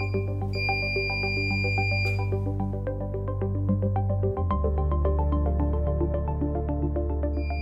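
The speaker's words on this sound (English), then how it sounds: "The heating process is completed once you hear the continuous beep." A MINISTAR S heating device sounds a steady continuous electronic tone marking the end of heating, alongside a rapid series of short beeps, loud and close, with no talking.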